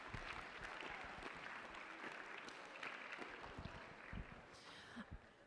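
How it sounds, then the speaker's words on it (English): A freshman class meeting audience applauding for Coach Woodard, a steady, fairly faint wash of many hands clapping from a distance that carries on throughout. "Give him a round of applause"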